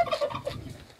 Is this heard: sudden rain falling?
no